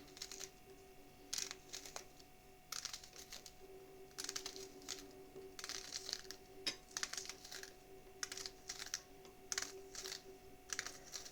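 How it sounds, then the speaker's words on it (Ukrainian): Rapid bursts of crisp knife taps on a board, finely chopping an onion, coming in quick clusters with short pauses, close and moderately loud over a steady low hum. "І це цибулю дрібненько покришимо."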